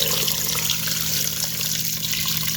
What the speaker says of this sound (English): the juice from the last batch, just dump right back on top of it